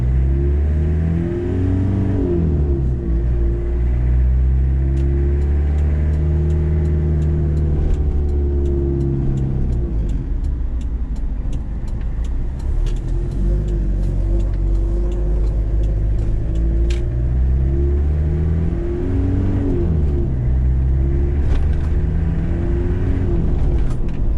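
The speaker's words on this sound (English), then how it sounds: "We're just going to do a quick drive around the block with this one." A 1994 Toyota Hiace 4WD diesel fire truck drives around the block, its loud, steady engine drone rising and falling through gear changes, with faint rattles and ticks heard from close inside the cab.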